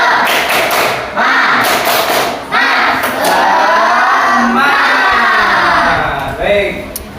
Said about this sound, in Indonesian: Tepuk semangat dulu biar kita lebih semangat.